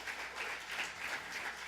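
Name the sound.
congregation applause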